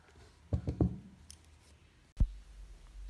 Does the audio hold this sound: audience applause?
no